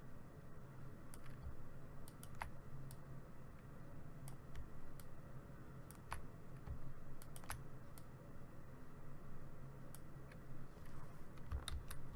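Mouse clicks and light keyboard taps while photo retouching in Photoshop, scattered sharp ticks at an irregular pace over steady low room hum, close and fairly quiet.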